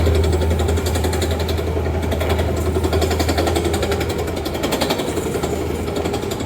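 A pneumatic rock drill pounds into rock on a downtown site where holes are drilled for dynamite blasting, giving a loud, relentless rapid hammering over a deep engine drone, close and uninterrupted throughout.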